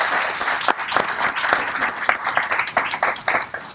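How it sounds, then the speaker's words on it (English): A conference audience at the PDAC 2023 mining convention gives a panel a round of applause: lively, dense clapping from many hands, close and sustained throughout. "I just want to give the panel a round of applause."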